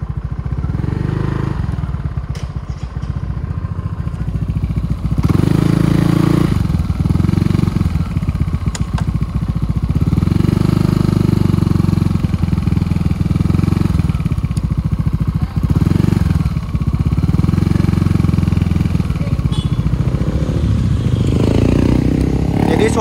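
Modified Yamaha Aerox scooter being ridden a short way, its loud engine surging and revving in repeated pulses, close and continuous with some rattling, no speech over it.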